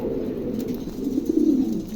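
A pair of pom pigeons at a pigeon sale gives low, rolling coos close by, a steady murmuring call that swells slightly toward the end, with no talk over it.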